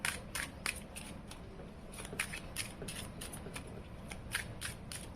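Tarot cards shuffled and drawn during a reading, a run of quick crisp riffling snaps and flicks at close range, fairly quiet, with no talk.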